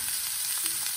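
Mushrooms with dill, rocket, spring onions, salt and black pepper frying in a pan, giving a constant close sizzle with faint soft stirring clicks beneath it.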